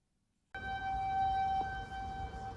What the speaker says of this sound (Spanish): Lisboa pone a prueba su sistema de evacuación por alerta de tsunami con varias sirenas activadas a lo largo de la desembocadura del río Tajo.